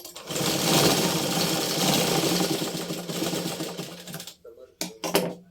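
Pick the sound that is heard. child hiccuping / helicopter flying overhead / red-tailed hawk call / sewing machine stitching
sewing machine stitching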